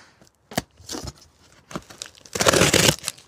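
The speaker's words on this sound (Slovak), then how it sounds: "aby tam bolo počuť to praskanie papiera" Paper wrapping crinkles and tears up close in short bursts, ending in a louder, sustained rustle.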